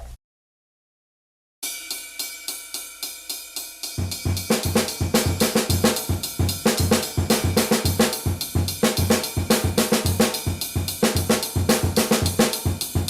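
Drum kit pattern played with the left hand on the ride cymbal, from a solo exercise; after a short gap a sparse ride pattern enters, then kick and snare join in a busy, loud, close groove with no talking.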